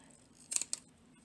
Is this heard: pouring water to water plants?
no